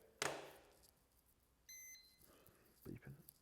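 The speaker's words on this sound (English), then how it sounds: "Beeping." A timer gives a short electronic beep partway through, faint and brief, set among quiet handling noises and a soft voice near the end.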